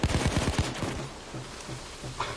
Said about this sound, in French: Le fusil à pompe, c'est énorme.